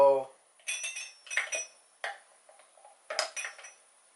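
A plastic ball knocking along a Hape pound and tap bench toy, making about half a dozen quick, sharp clattering taps in irregular bursts, close but quiet, with no talking.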